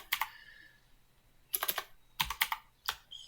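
Short bursts of typing on a computer keyboard, crisp key clicks coming in three or four quick clusters separated by pauses, close and fairly quiet in an otherwise silent room.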